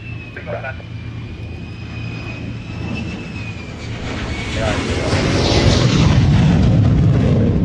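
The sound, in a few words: two Eurofighter Typhoon jets landing at air show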